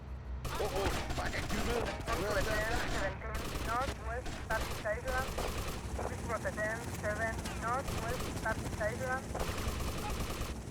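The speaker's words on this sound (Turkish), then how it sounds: "Bir yandan helikopterle savaşacağım bir yandan bunlarla ya" Gunfire bursts and a police helicopter in GTA Vice City during a four-star police chase, loud and continuous, with rapid shots mixed with rotor and engine noise and game voices.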